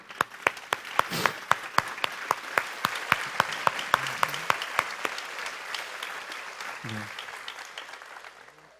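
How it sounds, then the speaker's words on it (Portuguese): Church congregation clapping for Jesus during a worship service, a sustained round of many hands with a few sharp, prominent claps standing out at first, gradually thinning and fading toward the end. "Uma salva de palmas para Jesus."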